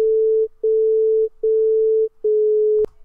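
Steady single pitch test tones from a tone-deafness hearing test, four sustained beeps with short gaps, the last a quarter tone lower, ending in a brief click; loud and clean with no talk.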